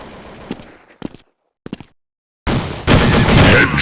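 Gunfire in the video game Counter Strike: a few sharp, isolated shots separated by silence, then a sudden sustained burst of loud, dense automatic fire and explosions that fills the rest of the moment.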